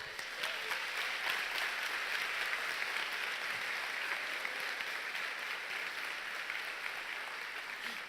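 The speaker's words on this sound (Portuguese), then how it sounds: "Dê um aplauso a Deus" A congregation at a church service applauds God, steady continuous clapping heard at a distance and fairly quiet, with no pauses.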